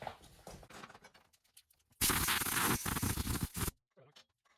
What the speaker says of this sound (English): Let's give it a bit of a blowout.